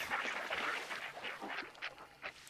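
Ducks quacking in the Hunt: Showdown video game, a series of faint nasal quacks close ahead, repeated irregularly over a soft ambient background.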